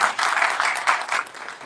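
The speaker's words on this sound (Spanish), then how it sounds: "Un aplauso, por favor." An audience at a live café talk show breaks into brief applause, a soft, steady patter of clapping heard at moderate distance for under two seconds, with no voices over it.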